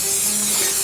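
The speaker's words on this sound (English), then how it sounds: "We're going to spray it with some cooking spray," A short, steady hiss of cooking spray from an aerosol can, close and loud, lasting under a second.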